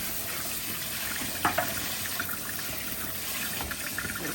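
Water runs steadily into a sink while items are rinsed under it, a continuous hiss with a couple of brief clunks as things are handled.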